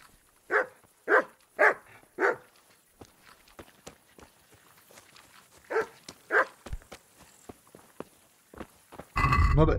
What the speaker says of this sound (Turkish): Bu köpekten kaçmak için.